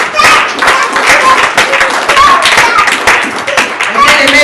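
A church congregation at a prayer gathering claps and cheers in praise, a loud dense patter of many hands with a voice speaking over it.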